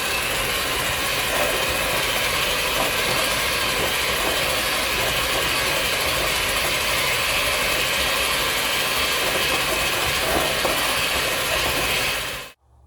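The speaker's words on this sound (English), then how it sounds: "So I'm just gonna get my mixer. Just gonna make a little bit of noise right here." Electric hand mixer whirring steadily through banana bread batter made with coffee, a continuous loud mechanical buzz with a gritty ratcheting edge that runs unbroken for about twelve seconds before cutting off abruptly.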